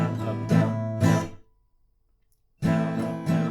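Acoustic guitar strumming a pattern, a few close, full strums ringing out, then about a second of near silence before the strumming resumes.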